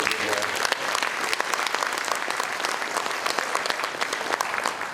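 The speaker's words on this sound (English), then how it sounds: "So round of applause for our police department again." Sustained applause from a crowd at a State of the City address in Romulus, dense clapping continuing steadily throughout at an even level.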